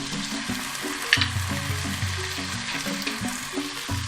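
Potatoes frying in a pan as turmeric, chili, coriander and cumin powders go in, a continuous near sizzle with soft stirring scrapes and a faint low hum beneath, no speech.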